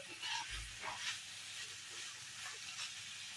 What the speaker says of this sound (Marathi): जेव्हा झाकण उघडलं तेव्हा तेवढी वाफ आली